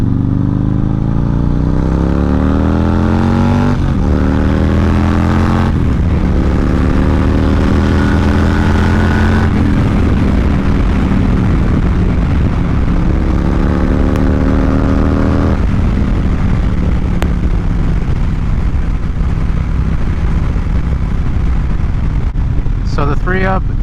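Loud, steady wind roar and engine drone while riding a 2019 Harley-Davidson Fat Bob at about 70 mph behind a ThreeUp add-on windscreen on a Spartan Mini, with shifting engine tones and continuous rushing air.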